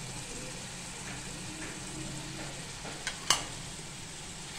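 Mutton masala spices stirred and sautéed in hot oil: a soft, even sizzle close by, with a couple of sharp clicks of a spoon against the pan near the end, quiet and without talk.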